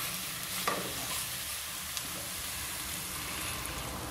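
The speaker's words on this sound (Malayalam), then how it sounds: "ഇനിയിപ്പോൾ നമുക്ക് ഇതിലേക്ക് കുറച്ച് വെള്ളം കൂടി ആഡ് ചെയ്ത് കൊടുക്കാം." Coconut masala in a pan sizzles loudly after a splash of water goes in, with a dense, continuous hiss throughout.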